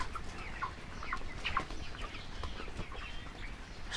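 Chickens on a Bangladeshi poultry farm cluck and call continuously, several birds overlapping at moderate distance with scattered sharper squawks over a steady shed background.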